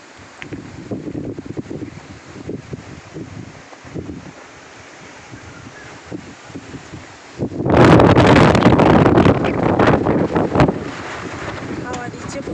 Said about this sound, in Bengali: হাওয়া দিচ্ছে প্রচণ্ড।